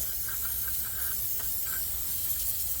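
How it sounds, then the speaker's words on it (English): Aerosol cleaner is sprayed onto a removed EGR valve from a 2014 Mercedes Sprinter-based Leisure Travel Vans Unity. It gives a loud, continuous hiss close by, with faint squeaks near the start. No one talks. "and spray the crap out of it."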